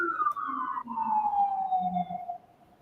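A fire engine siren wails outside, one long descending tone sweeping downward and fading as it passes, with no talk over it.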